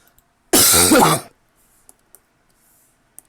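A single loud sneeze bursts out close to the microphone during a casual art stream, lasting under a second, followed by near silence with a few faint clicks.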